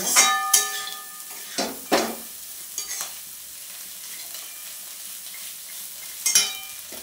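Fried egg, onion, cashews and raisins stirred in a pan, with a few sharp scrapes and clinks of the spatula over a soft, steady sizzle, no one talking.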